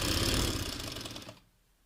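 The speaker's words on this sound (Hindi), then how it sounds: "इसको अच्छे से मोड़ते हुए सिलाई लगानी होगी।" A sewing machine runs a quick burst of stitching along a folded trouser hem, a close mechanical whirring clatter lasting over a second before stopping abruptly.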